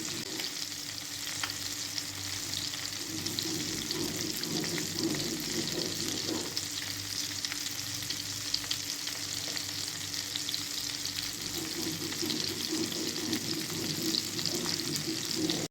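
Fish fries in a pan over a makeshift, gasless fire, a steady moderate sizzle that runs unbroken, with faint watery bubbling and occasional small crackles.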